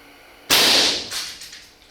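An air-powered arrow gun fires a single arrow in one sharp, loud, close pneumatic blast, followed by a short hissing decay and a faint rattle as the sound trails off.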